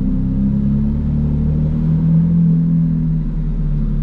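McLaren Artura engine running at a steady idle, a close continuous low rumble with a mid-pitched hum that stays even throughout, no one speaking.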